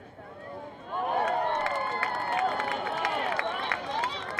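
A crowd at a high school lacrosse game cheers and shouts, swelling after a quiet start into a sustained roar of many overlapping voices, with a few claps and whistles mixed in.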